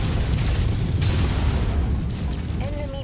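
An enemy battle mech blowing up in Mechwarrior 5, a heavy, rumbling explosion with a dense low roar that holds for a few seconds, then slowly eases off as a faint mechanical tone comes in.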